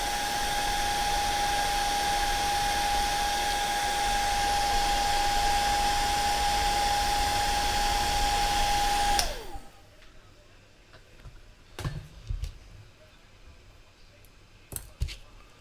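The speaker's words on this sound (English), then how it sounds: "you've just stepped into a little bit of the old hairdryer" An old hair dryer blows in a loud, steady whoosh with a constant high whine, then switches off abruptly, leaving quiet clinks and small knocks.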